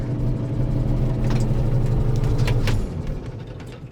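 Chinese 110 hp tractor diesel engine running at a steady rumble nearby, then dropping in level near the three-second mark as it is switched off and winds down.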